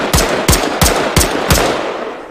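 A 5.56x45 NATO rifle with a long barrel fires five sharp shots at an even pace, each a loud, close crack with a short decay, and no talk between them.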